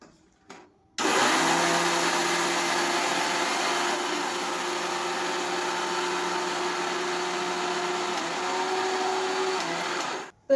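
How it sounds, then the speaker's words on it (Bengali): An electric mixer grinder grinds roasted dry fruits into powder, starting abruptly with a loud steady motor whine and rattling buzz that runs continuously for about nine seconds before cutting off. "তো এগুলো ঠান্ডা হোক, তারপর আমি মিক্সিতে পেস্ট করে নেব।"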